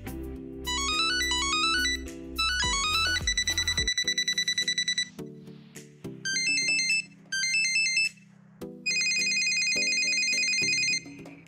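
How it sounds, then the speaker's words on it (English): Samsung Galaxy SmartTag ringtones playing one after another: bright electronic chime patterns, rising arpeggios and repeated beeping bursts, loud and close with short gaps between them. "You can also choose very different ringtones for the smart tag."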